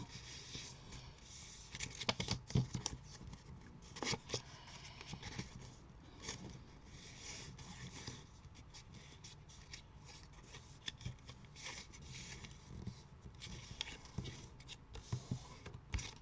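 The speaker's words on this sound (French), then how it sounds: "Donc là, on marque bien les plis." Paper being creased and folded by hand for a small U-bound scrapbook mini album: soft, close rubbing and scraping strokes with irregular light taps, quiet and intermittent, with no talking.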